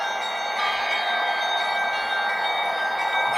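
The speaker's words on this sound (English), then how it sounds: "These are music of bells of Saint Sophia Cathedral in evening time." Evening bells of Saint Sophia Cathedral in Kyiv ring in a continuous, dense wash of overlapping tones, steady and fairly loud with no pauses.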